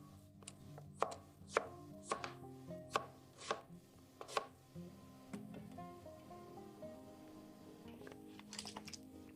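Knife chopping food into small pieces on a board: about eight sharp, evenly spaced chops, then softer scattered taps and a few quick cuts at the end, close and crisp with no talking.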